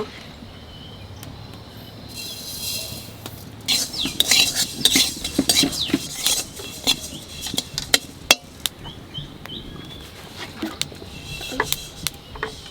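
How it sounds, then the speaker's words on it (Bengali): Sesame seeds dry-roasting in a bare pan, stirred with a utensil that scrapes and clinks against the metal in irregular bursts, close and fairly loud, with a faint sizzle underneath. "তা তিল কটা শুকনো খোলা একটু বাজিয়ে নেব"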